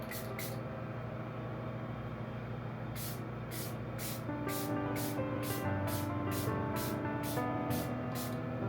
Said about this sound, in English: I have to spray my face